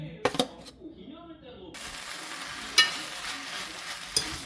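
Sesame oil is poured over beef for bulgogi in a hot pan, giving a steady, close sizzle that rises suddenly and holds, with a few sharp clinks of a utensil against the pan.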